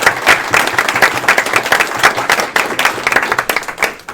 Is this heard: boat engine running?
no